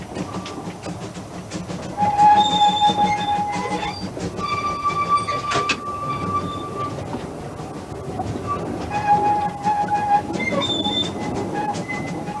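Steam locomotive hauling a train on a countryside heritage railway, with a steady rumbling roll of wheels on track and repeated sharp whistle blasts rising clearly above it.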